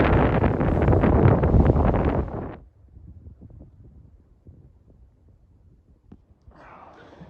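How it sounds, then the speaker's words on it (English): Loud, roaring wind buffets the microphone outdoors on a cold winter day, for a couple of seconds, then drops to a low rumble with faint gusts, rising again briefly near the end. "It is super cold and windy"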